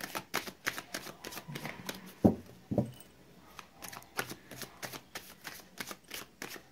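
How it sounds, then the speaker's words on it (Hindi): Tarot cards are shuffled in quick, papery riffles, close and fairly quiet, with a couple of soft bumps midway. "मैंने कर ली है कार्ड्स की सफरिंग"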